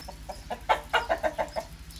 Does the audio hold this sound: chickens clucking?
yes